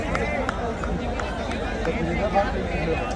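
Agitated crowd commotion at a stage show in a riverside area of Gaya, where stones were thrown at the singer, a dense, loud roar of many shouting voices and running feet with overlapping speech.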